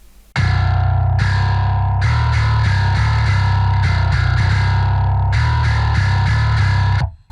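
A heavily distorted metal bass run through an EQ plugin, playing a chugging riff of sustained, gritty notes with short gaps between phrases, loud and continuous for about seven seconds.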